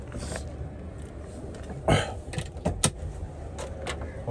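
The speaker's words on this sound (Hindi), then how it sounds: "करते हैं हम गाड़ी को बैक से खोलते हैं" The rear door of a 1998 Toyota Land Cruiser Grand is handled and opened, giving a few sharp latch clicks and a thunk amid quiet indoor room tone.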